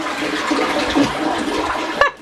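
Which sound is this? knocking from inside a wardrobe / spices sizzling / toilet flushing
toilet flushing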